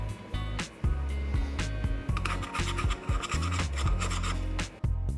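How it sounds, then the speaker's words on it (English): A metal pick and a flathead screwdriver scrape repeatedly against the body of a Wurkkos HD10 flashlight in a scratch test, producing close, loud rasping strokes in an uneven rhythm with short pauses between them. "Using both a pick and a flathead screwdriver, I tried to scratch the flashlight"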